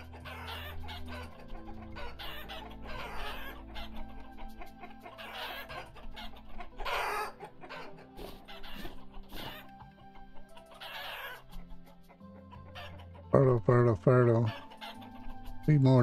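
Chickens in the Vintage Story survival game cluck in repeated soft bursts over a quiet background, with a louder rooster crow near the end, close by.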